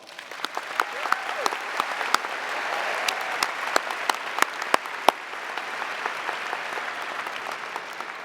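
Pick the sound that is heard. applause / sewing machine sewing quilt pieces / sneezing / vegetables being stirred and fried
applause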